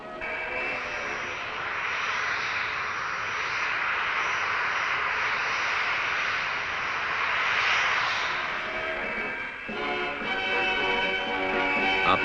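A McDonnell Douglas Phantom jet aircraft, a Royal Navy type for Yeovilton and HMS Ark Royal, gives a steady broad engine roar that swells and holds throughout, loud and continuous with no speech over it.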